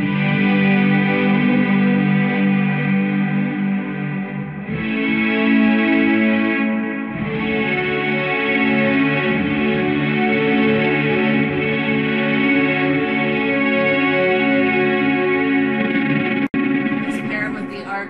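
A Squier Paranormal Super-Sonic electric guitar runs through SY1 and Somersault effect pedals, playing loud, sustained synth-like modulated chords that shift tone partway through and ring continuously.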